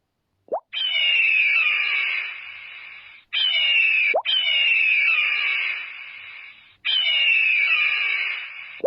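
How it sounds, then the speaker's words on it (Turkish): An eagle gives three long, shrill screaming calls, each opening with a brief sharp rise and then holding steady before fading, close and loud with short gaps between. "Kartal."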